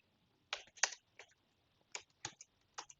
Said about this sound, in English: So I'm gonna type in